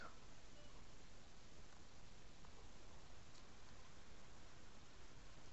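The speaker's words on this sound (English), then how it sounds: "It's currently raining right now" Steady rain falling outside a house, a continuous even hiss of drops heard from indoors, fairly faint and unbroken, with no voices.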